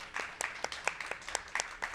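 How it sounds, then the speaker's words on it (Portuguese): A small audience at a literary event greets a poet with faint, scattered clapping. Individual claps come in a loose, fairly regular rhythm rather than a full ovation. "Palmas para o Sacolinha."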